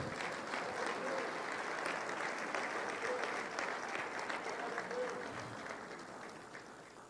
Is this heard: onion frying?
no